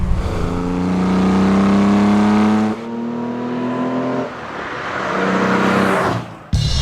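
Close, loud engine note from a 1972 Holden XU1 Torana race car, swelling through long revs, dropping off, then rising again before a sudden cut.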